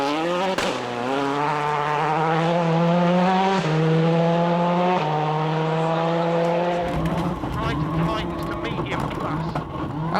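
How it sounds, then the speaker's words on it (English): A 2001 Rally of Great Britain car driven by Sainz runs a stage on a flat tyre filled with run-flat mousse. The engine wails loudly and climbs through the gears, then drops as the car slows and skids into a hairpin. "As Sainz comes down to the hairpin, look at the back wheel, and you can see the flat tyre filled with run-flat mousse"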